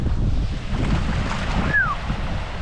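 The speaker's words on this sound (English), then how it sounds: "The waves are getting big from the wind." Wind-driven waves on a snowy mountain lake in the Eastern Sierra, a steady rushing wash of water mixed with gusty wind buffeting the microphone, with a brief high squeak near the end.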